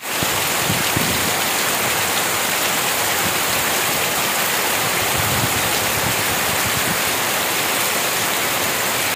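Steady monsoon rain in rural Konkan, a dense, even hiss of drops pouring down on surfaces, loud and unbroken with no voices.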